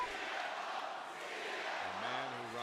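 Large WWE Raw arena crowd chanting and roaring in a continuous, loud mass of voices, with a single voice rising above it near the end.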